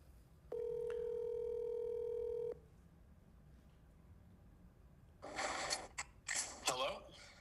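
A phone call is placed: a steady dial tone sounds for about two seconds, then stops, followed after a pause by bursts of breathy noise and faint voice-like sound on the line.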